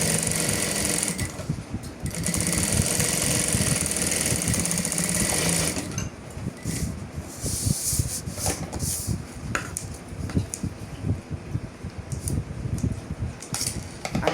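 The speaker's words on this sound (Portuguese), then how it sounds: "Vou rebater a costura agora novamente." A sewing machine topstitches a seam on a fabric pouch, its needle whirring in a steady fast run, then pausing and restarting in shorter uneven bursts with fabric handling, close by.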